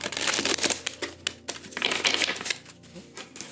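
Tarot cards shuffled by hand during a reading, quick riffling and flicking bursts with soft taps, close and fairly quiet, nobody speaking.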